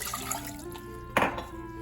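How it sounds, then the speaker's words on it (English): Water is poured from above into a medium-sized pot on a stove heated to medium-high, for churro dough: a short splashing gush surging partway through, close and moderately loud over faint background hum. "Next I'm going to add my water"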